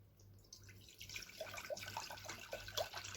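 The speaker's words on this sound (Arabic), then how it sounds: "غادي نضيفوا ليها الماء" Water pours into a cooking pot for instant noodles, a soft trickling and splashing with small drips that grows steadily over a few seconds, close by and fairly quiet, with no talking.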